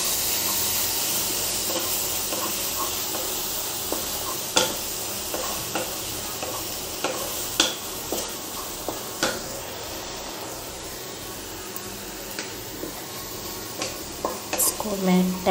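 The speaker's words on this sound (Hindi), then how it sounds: "तो मैं इसे अच्छे से सौते करूंगी, सौते करूंगी इसको." Paneer sautéing in a pan, a continuous hissing sizzle with frequent scraping and clinking stirs of a spoon against the metal, close up and moderately loud, without speech.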